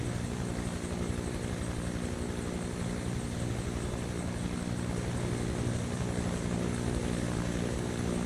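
A steady, droning helicopter rotor and engine hum in Microsoft Flight Simulator 2024, constant and unbroken throughout, with no voices.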